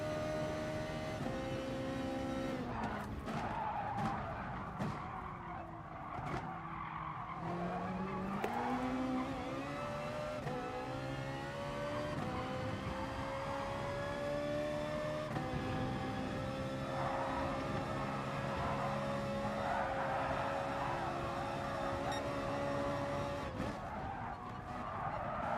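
A Ferrari race car taking a corner in the GT Sport video game, its engine note sliding down and climbing back through gear changes and tire squeal over about twenty-five continuous seconds, loud and close.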